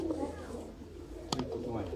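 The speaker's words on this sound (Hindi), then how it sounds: "जी दोस्तों है प्योर शेखां वाला जोड़ा माशाल्लाह।" Sialkoti Shekhan pigeons coo softly in a low, rolling murmur close by, with a brief sharp click partway through.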